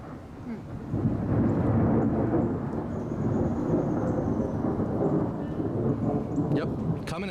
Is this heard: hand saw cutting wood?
no